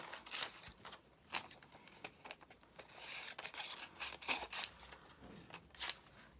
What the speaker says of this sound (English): So if I just roughly cut this out,